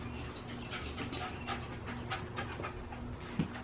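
A dog panting steadily and close, with rapid rhythmic breaths over a constant low background hum, after racing around the house.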